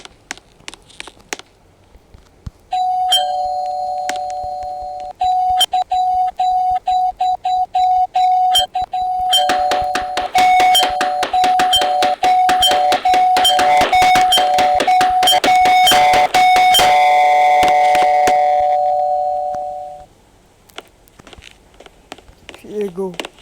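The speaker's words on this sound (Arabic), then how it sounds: "يبقى نرن الجرس تاني" A doorbell at an apartment in Roblox is rung again: a long, loud electronic buzz holds for about seventeen seconds, cluttered with rapid clicks and footsteps, with talk over it.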